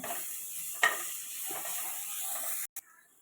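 Ginger garlic paste sizzles in a hot pan with a steady bright hiss, a sharp clink or splash partway through, before the sound cuts off near the end.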